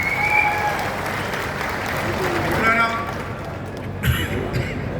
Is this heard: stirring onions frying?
no